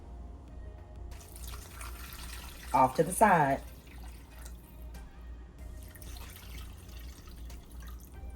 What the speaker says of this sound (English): We're just gonna put 1 full quart of water in here.